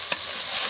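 Ground spices with tomato sizzling and being stirred in a pan for a fish curry, a brief burst of steady frying hiss with a faint scrape of stirring.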